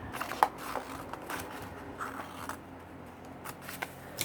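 Scissors snip through a double book page while it is shaped into a multi-pocket folio, giving quiet, irregular close crisp cuts with soft paper rustle and no talk.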